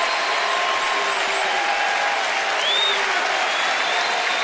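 A large baseball stadium crowd on its feet, cheering and applauding in a dense, continuous roar with scattered whistles rising above it.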